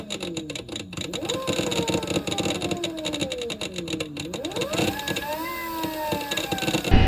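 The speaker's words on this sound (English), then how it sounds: "That's how the motor sounds with pretty much stock settings" Electric bike hub motor running on a Far Driver controller at near-stock settings, giving a steady close whine with pitch sweeping up and down, plus mechanical ticking and rattling throughout; no talk.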